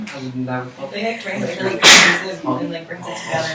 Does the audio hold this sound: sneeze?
yes